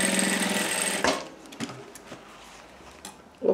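A sewing machine hems a transparent bag in a fast, close stitching whir for about a second, followed by scattered handling clicks and rustles.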